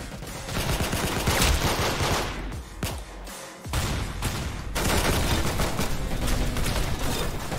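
Rapid gunfire from the Roblox shooter Arsenal, a dense run of overlapping shots with a short gap near the middle, loud and close throughout.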